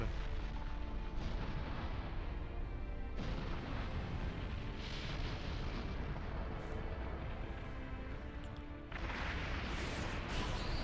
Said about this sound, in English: Sage Art! Wood Style! Shinsu Senshu, veritable thousand-armed cannon.